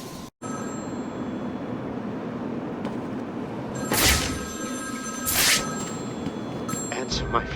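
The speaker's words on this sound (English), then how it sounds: "Answer my phone and answer it quick, Batman." A telephone rings in the Batman Arkham City video game, two bursts of bright ringing rising over a steady noisy city background.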